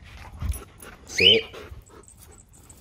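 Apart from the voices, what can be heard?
husky dog panting and whimpering in harness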